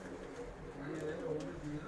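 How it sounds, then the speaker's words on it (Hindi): Soft pigeon cooing from a high flyer crossbred with aseel stock, faint and close, with voices talking over it. "ये कबूतर है"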